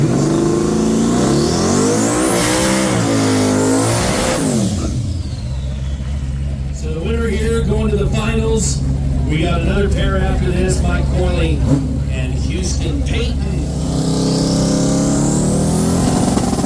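A 2007 Ford Mustang revs loudly at a drag racing event at the hill, its engine rising and falling in strong sweeps near the listener, with crowd noise and an announcer's voice over the rumble.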